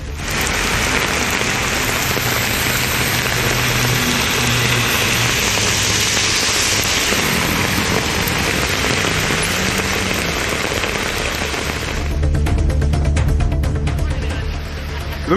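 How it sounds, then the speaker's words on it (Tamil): Heavy rain pours down in Chennai, a dense, steady hiss of downpour that holds loud and continuous, with a rumble of traffic or engine noise underneath and a slightly harsher spattering stretch near the end. "ஒரு மணி நேரத்திற்கு மேலாக கனமழை கொட்டியது"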